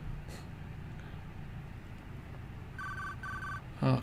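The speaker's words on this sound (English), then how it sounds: "Cell phone ring." A cell phone rings inside the video game 428 Shibuya Scramble, with two short electronic trilling bursts over a steady low hum of street traffic, followed by a brief louder knock at the end.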